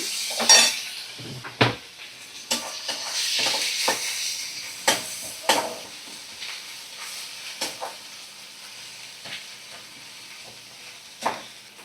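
Spice paste of ginger, garlic, green chilli and chopped tomato being sautéed for a fish curry, with sharp scattered scrapes and clinks of a spoon against the pan over a faint low sizzle.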